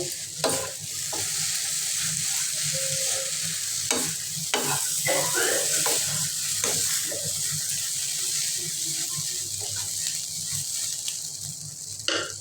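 Sausage frying and being stirred with a ground coconut spice paste in a hot pan, a steady close sizzle broken by repeated scraping clinks of a spoon against the pan, with no voices.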